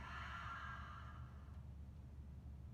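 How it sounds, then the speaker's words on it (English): A long, deep exhale through the mouth during a group exercise class, a breathy, airy rush close by that fades out over a couple of seconds. "take a nice deep breath in and exhale through your mouth"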